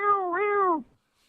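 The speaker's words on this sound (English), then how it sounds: "That's my cat." A single cat meows clearly and close, a rising then falling cry under a second long before fading to quiet.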